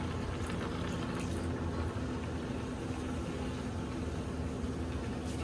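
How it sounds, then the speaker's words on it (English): Chicken broth soup poured slowly over rice for a jambalaya, a steady, continuous wash of liquid noise that holds evenly throughout, with no talk. "And pour your soup in real slow."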